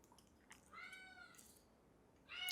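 A domestic cat meows twice indoors, the second call longer and rising, with a softer cry at the end; the calls are close and clear over quiet room tone.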